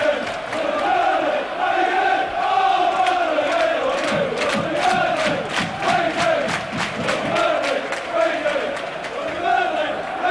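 A football crowd roars and chants at Burnley v Wigan Athletic in February 2000, a dense, continuous stadium din with rhythmic bursts of shouting, while a commentator talks over it.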